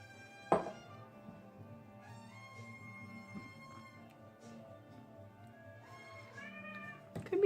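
A pet cat meows in a quiet room: several drawn-out, tonal cries spread across the stretch, with a couple of sharp knocks and a louder cry near the end.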